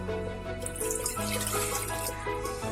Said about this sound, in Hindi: 3 सेब में हम 3 गिलास पानी बोतल में डालेंगे।